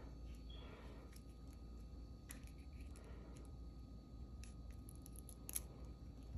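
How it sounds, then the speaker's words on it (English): Scissors snip off leftover beading thread during handmade necklace jewelry making, a few faint, quick clicks in an otherwise quiet room. "now it's time to cut our extra thread"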